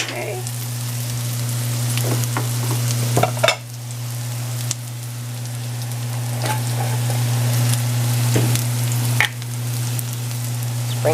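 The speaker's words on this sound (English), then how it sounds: "get my little spatula and make sure that my onions are caramelized" Onions caramelizing in a pan, pushed around with a small spatula; a loud steady sizzle with a low stove hum beneath and several distinct scraping strokes as they are stirred.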